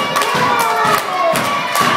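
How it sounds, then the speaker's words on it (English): A live crowd at a professional wrestling show cheers and roars steadily throughout, with a few heavy thuds pulsing beneath the noise, no clear talk on top. "The crowd is coming alive for Taylor Nicole."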